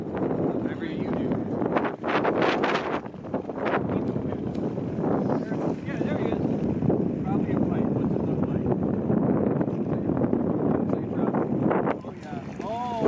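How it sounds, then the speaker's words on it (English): Wind buffets the microphone by a lake during trout fishing, a loud, continuous roaring rumble that covers voices talking throughout. "Probably can't hear any of this because of the wind"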